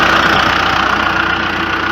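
A John Deere 310 SG backhoe's inline diesel engine of about four liters idles steadily up close, a loud, even mechanical rumble with a faint knocking rhythm and no voices over it.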